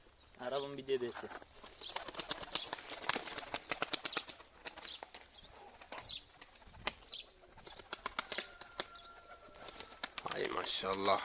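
Pigeons take flight with rapid wing flapping and clattering, close by amid breezy outdoor noise, while someone talks over it.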